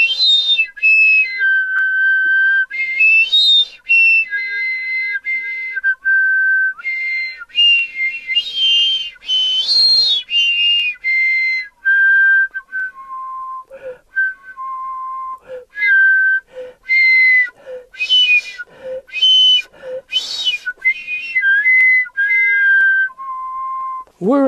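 Many short pitched whistles blown through microphone extension tubing used as a studio percussion effect. The tones rise and slide in quick bursts, close and fairly loud, with no voices.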